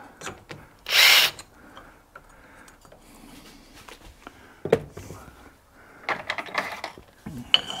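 A tool and cutter grinder deburrs a workpiece, with one short, loud grinding burst followed by scattered clicks, taps and scraping as swarf clogs and slows the work.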